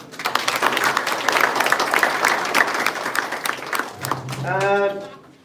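An audience claps steadily in a round of applause for a speaker at a live event, dense and sustained, with a voice rising near the end as the clapping fades.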